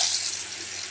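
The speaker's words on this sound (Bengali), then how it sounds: "এবারে আলুটা ভেজে নেব।" Potatoes frying in hot oil in a home Bengali kitchen, a dense steady sizzle heard close and alone for under a second.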